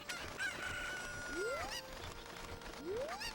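Cuccos, the chickens of Zelda: Ocarina of Time, cluck and squawk with rising calls that repeat twice over a busy game soundscape, fairly faint and without speech.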